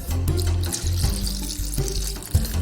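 Water is gently poured into a homemade rain gauge container over rocks, making a steady, close splashing trickle that runs continuously, with no voices.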